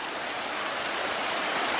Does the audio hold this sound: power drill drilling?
no